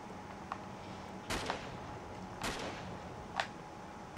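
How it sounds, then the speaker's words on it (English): Sniper fire in Uncharted 3: a few sharp, isolated cracking shots spaced a second or so apart over a quiet game background, moderately loud. "So Madness is going to try to shoot me"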